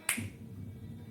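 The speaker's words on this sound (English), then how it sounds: "I snap my fingers" One crisp, sharp finger snap close by, a single quick click that dies away at once over a faint low background murmur.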